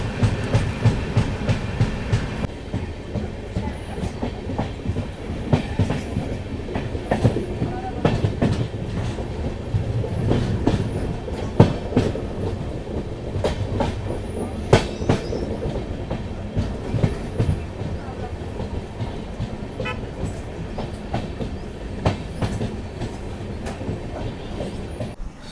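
Kacheguda–Yelahanka Express train rolling into Penukonda junction, heard from aboard: a steady rumble of wheels with repeated clickety-clack over rail joints and occasional sharp knocks and faint squeals, continuous throughout.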